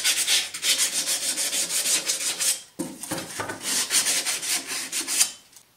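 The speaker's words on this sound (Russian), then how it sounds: "Надо взять наждачкой или надфилем" Sandpaper or a needle file scrapes and rubs against a metal armour elbow piece in rapid back-and-forth strokes, close and loud, with a brief pause midway before the rasping resumes and fades.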